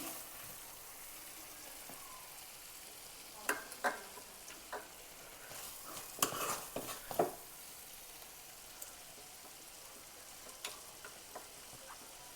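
Stirring country chicken fried egg curry with curry and mint leaves in a pan, giving a faint steady sizzle with scattered soft scrapes and clinks of the spoon, most clustered in the middle.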